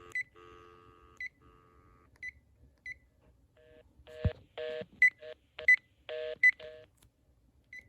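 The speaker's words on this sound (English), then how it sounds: "That's just how it sounds when you change the channel." A Panasonic KX-TG2583S 2.4GHz cordless phone beeps while changing channels: a short series of electronic tones, then a quick cluster of clipped beeps and chirps with quiet gaps between them.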